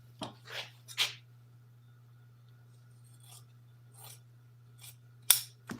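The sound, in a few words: cutting leather for an airplane seat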